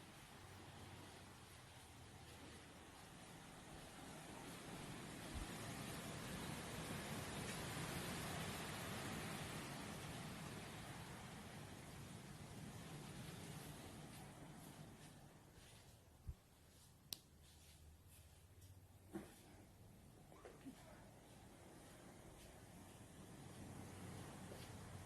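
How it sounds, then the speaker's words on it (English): Leaves rustling in the wind outside a window, a steady broad airy hiss that swells and eases, with a few faint sharp ticks and knocks near the end. "a lover of trees and the sound of leaves rustling in the wind"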